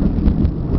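Thunder from repeated lightning strikes in a storm near train tracks, heard as a loud, continuous low rumble with wind buffeting the microphone, with no speech.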